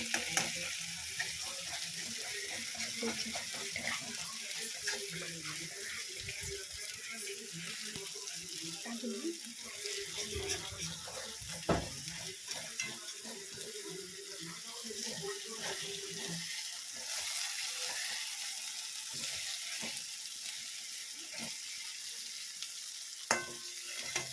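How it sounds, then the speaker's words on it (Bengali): Spices are stirred and fried in a pan for a chicken dish, with a continuous close sizzle and a busy run of scraping, tossing spatula strokes that fade toward the end, a few sharp knocks on the pan. "মশলাগুলো দিয়ে এরকম করে নেড়ে চেড়ে নেড়ে চেড়ে এরকম ওলট পালট করে চেকানো চেকানো করে করে নিয়ে ভালো করে কষে কষে"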